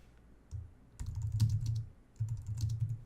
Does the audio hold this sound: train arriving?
no